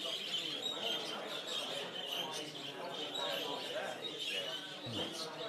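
Budgerigars kept in show cages at a national budgerigar show chirp and twitter continuously in the hall, a busy, fairly faint chatter of small birds with no clear single call standing out.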